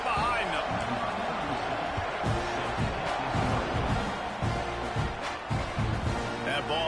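A football stadium crowd roars at kickoff in a steady, dense wash of cheering, with thuds and a commentator's voice over the top.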